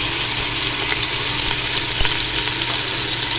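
Chopped onion frying in ghee for Lahori goat trotters (paye), a steady, loud, close sizzle and crackle running throughout with a faint clack of stirring.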